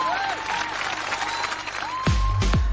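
A short burst of studio applause on a radio show blends with a jingle and sweeping tones, then gives way to a couple of deep bass hits.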